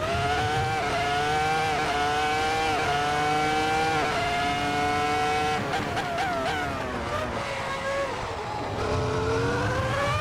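A Ferrari F2004 Formula One car in a racing sim screams at high revs, and its tires squeal and wail through corners. The engine whine holds steady and loud, rising and dropping with gear shifts, with long skidding squeals layered on top.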